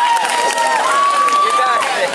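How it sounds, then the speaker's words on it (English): Steady crowd applause and cheering before a charity head shave, a dense wash of clapping and raised voices that holds at a loud level throughout, with a whistle or shout cutting through. "let's give her a round of applause"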